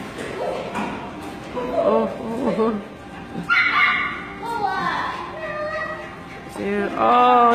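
A Bernedoodle yips, barks and whimpers during a game of fetch, short excited bursts repeating through the clip, mixed with people talking nearby.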